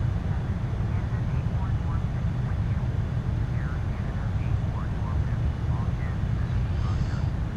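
Boeing 747-400 freighter cockpit in the Prepar3D flight simulator game, a steady low engine and airflow drone with faint chimes, running continuously while someone talks over it.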